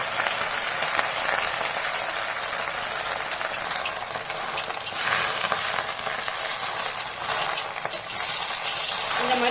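Gongura (sorrel) leaves being sautéed in a pan, a steady broadband sizzle and stirring scrape that stays loud and close throughout, with no talking.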